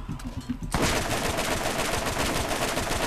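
Sudden loud gunfire in the shooter game Borderlands, a dense rapid burst of shots that bursts in after a brief quieter moment and keeps hammering steadily for the rest of the clip.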